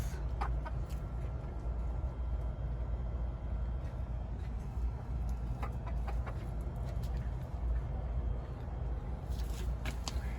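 Hens of a Texas breed cluck softly and intermittently in a steady low background of farmyard noise, with occasional faint sharper calls.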